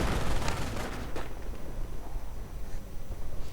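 Mortar rounds from a small two-tube battery fire in a World War II strategy game, a few sharp booming thumps early on followed by a rumbling battlefield din, with no talking.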